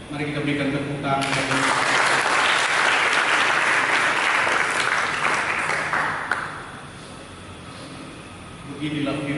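A church congregation bursts into dense, loud applause during a pastor's sermon, holding steady for about five seconds before fading; a voice speaks just before and after.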